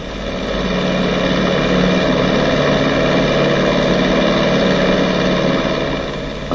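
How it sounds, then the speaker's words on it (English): Light aeroplane engine at open throttle accelerating for takeoff, a loud steady propeller drone holding close and constant throughout with no voices. "The pilot opens the throttle and the aeroplane accelerates."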